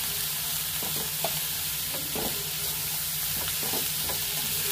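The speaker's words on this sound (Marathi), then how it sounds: "आता आपण हे स्टर करून घेऊया, मिक्स करून घेऊया" A spoon stirs and mixes bread pakoda batter in a bowl, making soft, repeated scraping strokes in a steady rhythm close by, over a constant background hiss with no talking.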